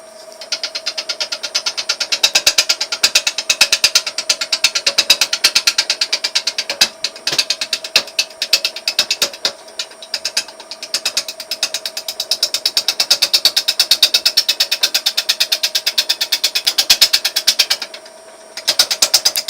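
Wood lathe at 520 RPM rough turning a sycamore bowl, the gouge chattering in rapid, rattling bursts over a steady motor whine, close and loud, with short pauses between cuts.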